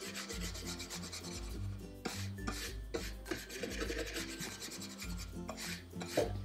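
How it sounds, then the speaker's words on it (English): A wax brush works wax into furniture finished in Annie Sloan chalk paint, making steady, close rubbing and scrubbing strokes over quiet background music. "I'm just going to get a little bit of wax on my wax brush, and I really work it in, get the excess off."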